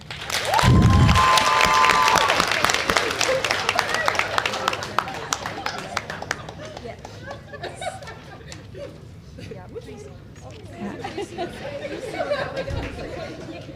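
Audience applause at a nursing pinning ceremony, a loud dense burst of clapping and cheering that fades into lighter scattered claps and crowd chatter, with a voice over a loudspeaker.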